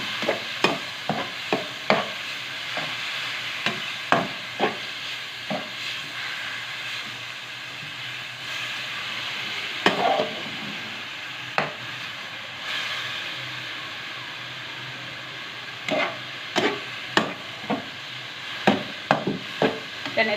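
Boneless chicken frying in a pan, with repeated clinks and scrapes of a spoon stirring over a steady sizzle, close by and with no voices.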